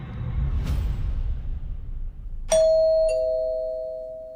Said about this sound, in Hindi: डोरबेल सुनकर सुजाता ने बाहर जाके दरवाजा खोला।